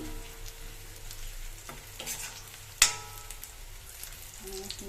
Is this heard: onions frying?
yes